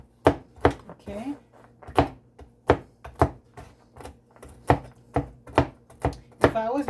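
Walnuts chopped on a board for an apple cake, a run of sharp knife thunks at an uneven pace, close and clear, with someone talking in between the cuts.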